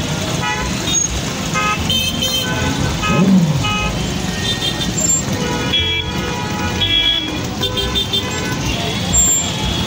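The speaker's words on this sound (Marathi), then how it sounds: "स्टेशन जवळ आलो आणि ट्रॅफिक जाम." Car horns toot repeatedly in a traffic jam near Ujjain railway station, scattered short blasts over a dense rumble of engines and road noise, with voices in the crowd around.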